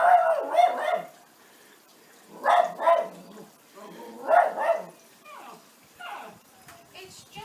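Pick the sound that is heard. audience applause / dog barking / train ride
dog barking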